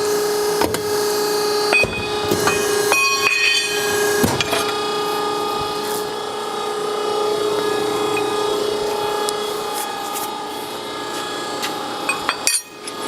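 55-ton JMT Rhino Series ironworker notcher cutting 2 inch by 1/4 steel flat bar, a steady mechanical hum under sharp metallic clanks and knocks, ending in a brief thud.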